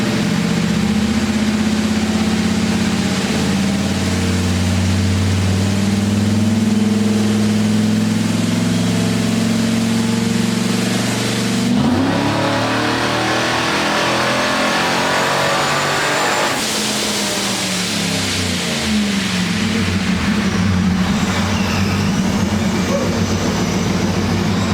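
A Procharged LS-swapped Ford Falcon roars on a dyno during a third-gear pull, its loud, close engine note climbing steadily with brief shifts in pitch partway through, with no one talking.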